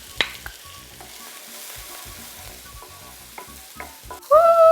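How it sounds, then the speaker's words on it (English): Chilies drop into hot sesame oil in a pan, starting with faint scattered ticks and stirring noises before a sudden loud, steady sizzle takes over at the end. "Now we're gonna get a super buff sizzle."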